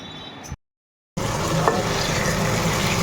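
Spice paste and onions sizzle loudly in a kadai already seasoned with bay leaf, cumin, cardamom and cinnamon for a mutton curry. A steady hiss runs under occasional stirring, broken once by a brief cut to silence.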